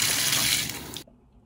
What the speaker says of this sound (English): now I gotta take a body shower